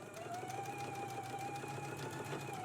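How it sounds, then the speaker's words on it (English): A serger running steadily on fabric, finishing the outer edges of dress facing pieces, with a constant close whirring hum and a faint rhythmic stitching patter throughout, no voices. "you can finish the outer edge here of your facing pieces using a serger"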